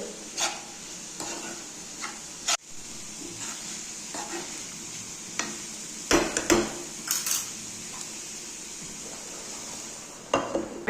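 Spinach being stirred in a pan, with a steady soft sizzle and a series of light spoon scrapes and clinks against the pan, some sharper knocks clustered midway, close and fairly quiet, no talking.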